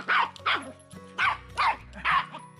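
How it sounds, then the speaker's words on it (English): A dog barks five times in an uneven rhythm, sharp and close, over music playing in the background. "Right, Archie, that's enough barking."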